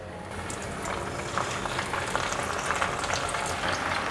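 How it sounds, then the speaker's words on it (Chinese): Rolls frying in hot oil in a pan give a steady, dense crackling sizzle that holds at a constant level throughout, close up, with no voices. "油热了，放进来煎。"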